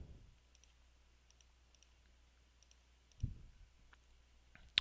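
Soft, sparse button clicks on a graphing calculator as an equation is keyed in, with a few faint taps and a couple of sharper presses in a quiet room.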